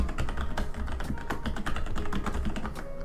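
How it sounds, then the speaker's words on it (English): Fingers type an email address on a computer keyboard, with quick, close, crisp key clicks in an uneven rapid rhythm and no voices. "And then just type in your email."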